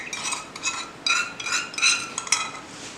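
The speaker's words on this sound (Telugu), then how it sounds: "ఇదంతా ఒకసారి నేను బాగా కలిపేసుకుంటాను" Chopped raw mango pickle pieces are mixed with cooled oil in a bowl, a spoon scraping and clinking in repeated uneven strokes, close up with no voices.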